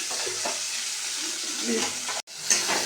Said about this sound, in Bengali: টমেটো আর পেঁয়াজ কিছু একসাথে দিয়ে দিলাম